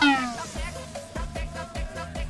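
A cat meows in the Lucky Neko slot video game, a short plaintive meow followed by a quick series of soft chiming game effects, all close and clear.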